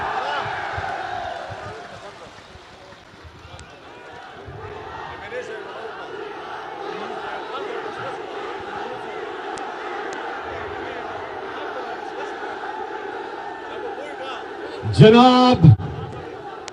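A large crowd at a Pakistan Tehreek-e-Insaf rally in Karak, cheering and clapping in a sustained roar beneath a speaker's amplified voice, with a sharp loud shout near the end.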